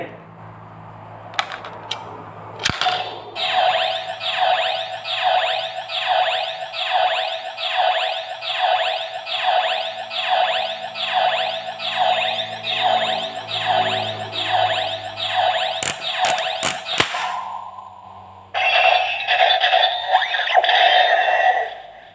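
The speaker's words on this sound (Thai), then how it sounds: "เปิดสวิตช์ครับ ด้านบน อ่ามีไฟนะ มีเสียงชัดเจนครับ แปลงร่างกันก่อนเลย" A DX Birth Driver toy belt from Kamen Rider OOO plays its transformation sequence, a loud electronic jingle that pulses in a steady repeating rhythm for about fourteen seconds before cutting off, followed by a short burst of further toy effects.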